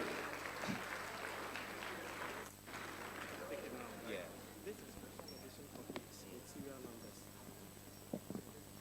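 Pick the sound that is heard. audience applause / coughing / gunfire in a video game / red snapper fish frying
audience applause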